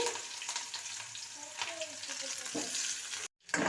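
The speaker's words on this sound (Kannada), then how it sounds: "ಇಷ್ಟನ್ನು ಹಾಕಿ ಈಗ ಚೆನ್ನಾಗಿ ಫ್ರೈ ಮಾಡಿ" Onion, mustard seeds, cumin and dried red chilli frying in oil for idli upma, a dense close sizzle with stirring scrapes running continuously, cutting out briefly near the end before resuming.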